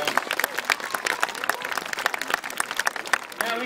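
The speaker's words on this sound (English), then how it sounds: "give him a nice round of applause" Audience clapping at an elephant show, a steady crackle of applause from a crowd with scattered individual claps close by.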